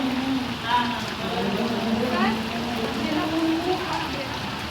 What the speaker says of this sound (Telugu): వర్షం అయితే చూడండి ఎలా పడుతుందో